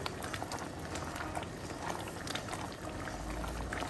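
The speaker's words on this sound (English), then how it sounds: "I'm just using a high heat here to kind of condense the sauce here a little bit." A cream sauce boils in a pot on high heat, a dense, steady bubbling and popping heard close and continuous throughout, with no voices.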